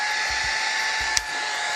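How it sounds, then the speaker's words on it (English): A hair dryer blows steadily on a camper wall under renovation, a constant close whooshing hum with a faint click near the end. "Now I've got a hair dryer, barely enough cord"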